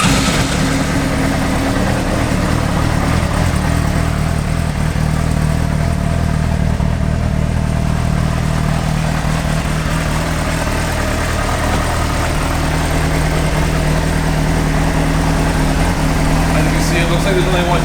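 A 2005 Honda CBR 600RR motorcycle engine idles loudly and steadily close by, a constant low drone with a fixed hum that holds throughout.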